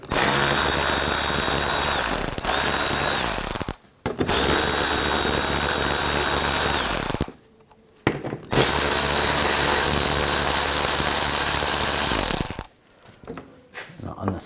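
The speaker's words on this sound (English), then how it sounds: "You're going to use a 8mm socket." A power tool with an 8mm socket whirs loudly and steadily in long bursts while fasteners come off the undercarriage panel of a 2000-2006 BMW X5 3.0L, with brief quiet gaps between runs.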